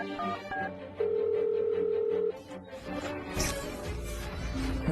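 A telephone being dialed for a call: a steady electronic tone holds for over a second among short beeps, then fades into busier background sound near the end of a dubbed drama scene.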